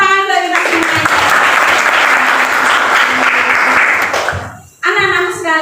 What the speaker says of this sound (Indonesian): Tepuk tangan bagi kita semuanya.